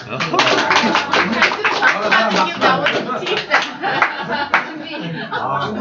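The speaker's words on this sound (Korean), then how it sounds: "박수 한번 쳐주세요" Clapping from a small group at a reading club discussion meeting, close and fairly loud, with distinct hand strikes and some light chuckling and laughter mixed in before it tapers off.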